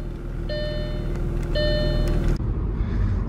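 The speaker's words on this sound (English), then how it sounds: "The windows are down so you could hear some of the motor." A 2000 Audi B5 S4 being driven with the windows down, its engine giving a steady low rumble alongside road and wind noise, broken by a couple of brief electronic chimes.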